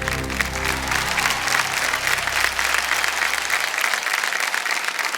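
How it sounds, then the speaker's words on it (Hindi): Thunderous studio-audience applause on a quiz game show set for two celebrity guests, dense continuous clapping over a fading musical sting, loud and unbroken. "जोरदार तालियां बज जाए हमारे दोनों मेहमानों के लिए"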